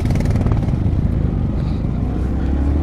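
Motorcycle carrying two riders on a sand and stone-chip road on a Ladakh trip, engine droning loud and close throughout with wind rumble and some clatter.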